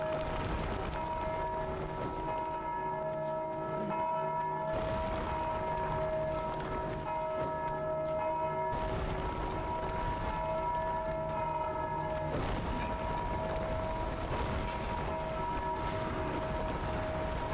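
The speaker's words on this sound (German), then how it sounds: "Ach, jetzt bimmel ich schon selber die Glocke." A bell in the video game Dark Souls 2 tolls about four times at steady intervals. Each strike rings out with a long, humming sustain over a constant background hum.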